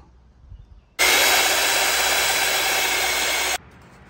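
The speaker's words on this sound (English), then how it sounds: "drilling a hole in this for our template" A drill with a 2-inch four-center bit suddenly spins up into a loud, steady high-pitched whir for a few seconds, boring a template hole, then stops abruptly, close and with no speech.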